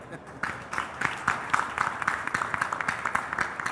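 Moderate audience clapping at a CEO panel session, building from a few claps into a denser, uneven round of applause at mid distance.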